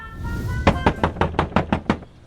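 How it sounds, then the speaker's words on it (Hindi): Loud, sharp knocks pound on a door as an audio drama effect, seven or eight hard raps in a quick, fairly even series, close and distinct against a quiet background. "जब हमारा दरवाजा जोर जोर से बजा"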